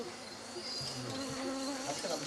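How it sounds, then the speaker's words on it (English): Bees and flies buzz in the Gabon forest, a dense, steady insect drone of several close wingbeats hovering and passing over constant background hum. "We'll sleep here another day, in the open among all the bees, among the flies and mosquitoes."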